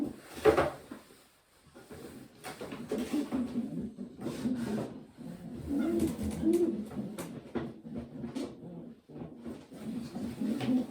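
Pigeons, including a Polish-breed bird, coo in a loft while being sorted for breeding: low, throaty coos repeat close by, with faint rustling and knocks between them.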